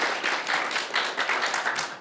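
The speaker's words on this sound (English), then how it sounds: "Please give them a round of applause to get them going." Audience clapping for panel guests at a conference session, a short burst of fairly quiet applause from a modest crowd with uneven rhythmic pulses.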